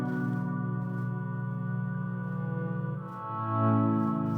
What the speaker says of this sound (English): we also bring in what I have labeled as an organ swell